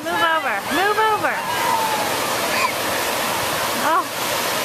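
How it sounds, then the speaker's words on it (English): Surf rolls and breaks steadily along a Florida beach, a continuous wash close by, while children's voices shout and squeal over it throughout. "Grandma, CJ, and Sierra playing in the waves."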